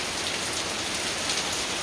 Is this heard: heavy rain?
yes